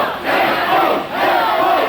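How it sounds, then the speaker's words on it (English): Spectators at a kickboxing fight roar and cheer in a loud, swelling wave that dips briefly and surges again, filling the venue without any clear speech. "the crowd's right behind Paul"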